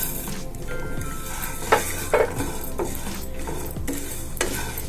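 Peanuts and coriander seeds dry-roasting in a pan, a constant crackling sizzle with scraping stirs and occasional clinks of the spoon against metal, close and without voices.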